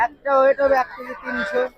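Several nasal, honking quacks from domestic ducks close by at a bird market in Fatullah, Bangladesh, in quick succession, separated by short pauses.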